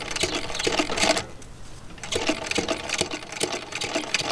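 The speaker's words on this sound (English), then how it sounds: "you're gonna sew where the pins are to capture that magnet" A sewing machine stitches a magnet pocket into a flexible magnetic window screen, its rapid needle chatter running steadily and close, with a brief pause before the stitching resumes.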